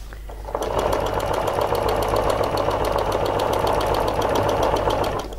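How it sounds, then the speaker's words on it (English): A Janome MC 11000 sewing machine stitches fabric along a ruler for a quarter-inch seam, its needle chattering in a fast, even, close rhythm that starts abruptly and runs steadily for about five seconds. "I can stitch down here and get 1/4 inch seam."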